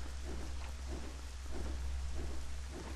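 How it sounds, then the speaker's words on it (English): Steady rain falls in Zelda: Twilight Princess HD at Hyrule Castle, a constant wash of drops with a soft, rhythmic pulsing underneath like slow wingbeats, no music and no talk. "Is it just the rain and his wings flapping?"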